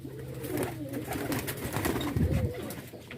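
Male and female pigeons cooing together in soft, throaty rolling calls, close by and continuous over a faint background.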